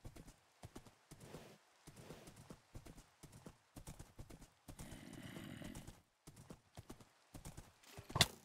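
A horse in the video game Minecraft clip-clops along in short bursts of hoof steps, with a whinny in the middle and a sharp sound near the end.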